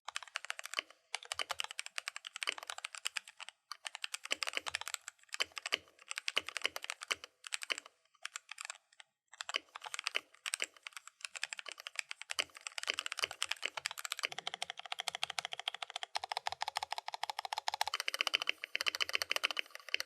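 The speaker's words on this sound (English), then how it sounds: "Now we're going to get a quick sound test with the stock switches and stabs and everything." Close, crisp typing on an AZIO Cascade 75% aluminum mechanical keyboard with pre-lubed Gateron brown switches, rapid irregular keystrokes with brief pauses and bursts, fairly quiet, no talking.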